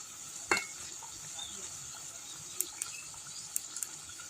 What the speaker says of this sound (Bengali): এই দেখো গরম মশলা দিয়ে দিলাম, একটু নাড়াচাড়া করে দেবো